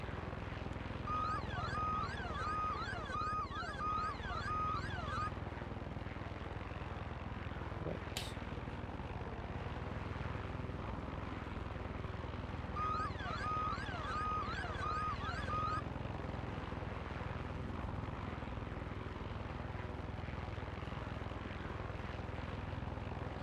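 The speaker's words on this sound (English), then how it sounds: "This helicopter is too slow." Steady helicopter rotor and engine drone throughout in the video game Far Cry 6, with short patterned electronic beeps twice over the continuous roar.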